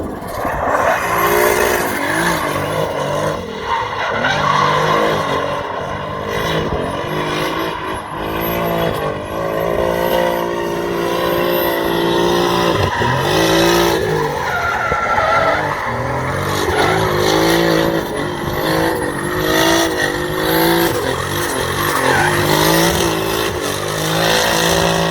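BMW E30 with a swapped 2JZ engine drifting, tires squealing continuously with wavering pitch over a loud, revving engine for the whole stretch, close and intense.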